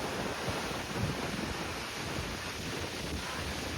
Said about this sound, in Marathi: बाप रे, कसली खतरनाक लाटा असत बघा, खतरनाक